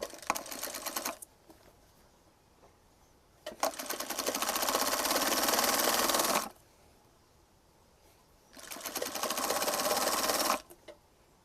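A sewing machine stitches the folded hem of children's half pants in three bursts, a short one, then two longer steady whirring runs with quiet pauses between, close by and without speech.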